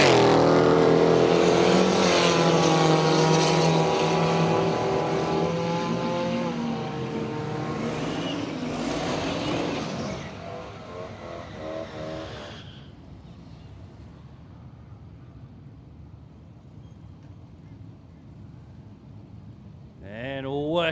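A supercharged Z28 Camaro drag car on 265 street radials roars loudly through a burnout at Willowbank Raceway, its engine note sustained and harsh for about ten seconds before fading into lower crowd and track noise, with a voice commentating over it.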